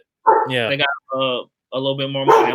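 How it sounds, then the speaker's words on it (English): A dog barks close by in a home during podcast chatter, giving several excited yelps and whimpery barks in quick bursts, loud and mixed with someone talking. "that's my dog barking"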